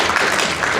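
A quiz-show audience clapping briefly to vote on an answer, a short, loud, dense patter of hands.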